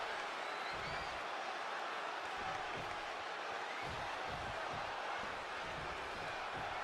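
A Montreal wrestling crowd at a CCW Women's Championship match roars with steady, dense cheering and noise filling the arena throughout, loud and continuous with no single voice standing out.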